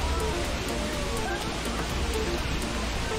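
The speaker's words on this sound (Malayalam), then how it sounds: "വെള്ളത്തിൻ്റെ അതിശക്തമായി പതിക്കുന്ന ശബ്ദവും" Kappimala waterfall near Alakode in the monsoon season pours down forcefully, a steady, dense, unbroken roar of crashing water that fills the whole clip.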